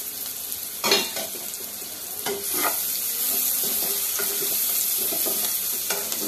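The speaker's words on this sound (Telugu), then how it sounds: "మూతేసినాం కదా, తీసి కలిపి చూడాలి" Onions and green chillies frying in oil in a pan, with a couple of close clanks and scrapes as they are stirred, then a steady loud sizzle that continues alone.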